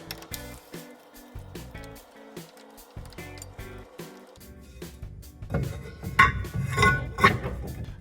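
Metallic ratcheting and clinking from bolts being tightened on the rear axle of a 1968 Dodge Charger during a 3.23 Sure Grip differential install, a series of short close clicks that build into a louder, busier clatter toward the end.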